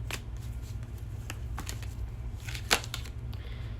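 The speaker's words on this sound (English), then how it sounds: "I'm going to take it from the bottom of the deck." A Game of Thrones card deck handled at close range: quiet crisp riffling and flicking of cards, with scattered snaps and one sharper slap partway through.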